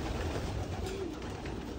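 Pigeons bathing and resting together give off a steady, close murmur of soft cooing over a continuous wash of background noise, with no clear breaks in the sound.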